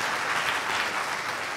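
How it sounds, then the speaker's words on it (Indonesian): A church congregation claps together in dense, sustained applause, steady and close-sounding for the whole short stretch. "Tepuk tangan dong buat Tuhan."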